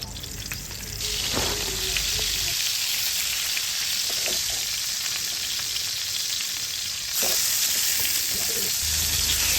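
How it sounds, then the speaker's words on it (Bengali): Marinated eggplant pieces fry in about three tablespoons of soybean oil in a frying pan, a loud steady sizzle that swells as the pieces hit the oil, with occasional stirring clinks. "ফ্রাই প্যানে আমি তিন টেবিল চামচের মতো সয়াবিন তেল দিয়ে নেব এই তেলে এখন বেগুনগুলোকে ভালো করে ভাজতে হবে"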